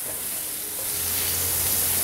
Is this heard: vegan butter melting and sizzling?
yes